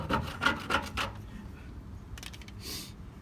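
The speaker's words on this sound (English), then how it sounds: "go back with the rubber thing and scrape a little bit more of the glue off" A plastic scraper working glue off a car's painted body during badge removal, a run of short rhythmic rasping strokes that fade into faint scratchy scraping, close and quiet.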